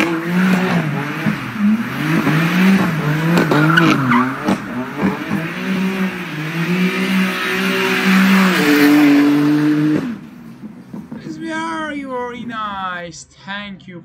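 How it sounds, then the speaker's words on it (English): A BMW M4 spins a donut on a street, its engine revving hard while the tires squeal and skid in long wavering howls, loud and close, before the car pulls away. "It's best donut with BMW M4."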